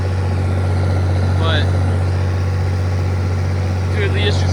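White 215 tractor idling nearby with a steady low rumbling hum throughout, while a couple of faint high chirps come and go over it.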